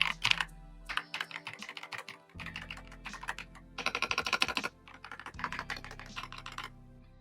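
Rapid, clacky typing up close on an Epomaker Ajazz AK820 Pro mechanical keyboard, bursts of keystrokes in uneven rhythm with brief pauses between flurries.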